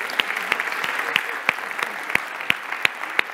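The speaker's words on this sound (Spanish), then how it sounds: "Un aplauso para Rocío." Light applause from a small group, a steady patter of claps with a few sharp, distinct hand claps standing out.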